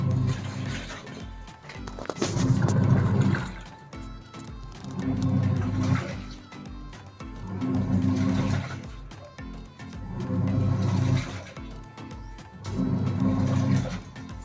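An IFB top-load automatic washing machine fills with water, its inflow rushing and gurgling in repeated surges with mechanical clicks between them, close and moderately loud.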